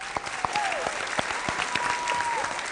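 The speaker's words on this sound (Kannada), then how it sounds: "ಜೋರಾದ ಚಪ್ಪಾಳೆ." A studio audience at a Kannada television couples game show claps loudly in a dense, steady round of applause after a team wins, with faint voices mixed in.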